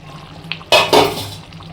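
A lid set down over a pot of soya chaap gravy, two close metallic clanks in quick succession followed by a fading ring, with a faint tap just before.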